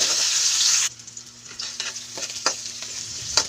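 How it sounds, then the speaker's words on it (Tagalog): Garlic and onion sauté in a pan with a loud hiss at first that suddenly drops to a quieter sizzle, broken by irregular scraping and clanking of a spatula stirring. "Nag-isa lang po ako ng bawang at sibuyas."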